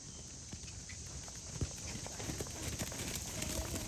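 Several horses walk around a riding arena during a kids' riding lesson at a summer camp, hooves clip-clopping in irregular soft thuds over steady background noise.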